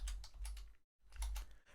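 Keyboard typing while entering a formula in Google Sheets: quick, close clusters of key clicks in two bursts separated by a brief silent gap, with no voice.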